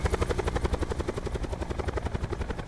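A helicopter in Call of Duty: Black Ops 4 Blackout gives a rapid, steady rotor thumping, loud and close, continuous throughout without talk.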